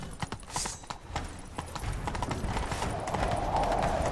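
Hoofbeats of a horse galloping in The Witcher 3 video game, a fast, steady clip-clop rhythm that grows denser and louder toward the end, heard alone without talk.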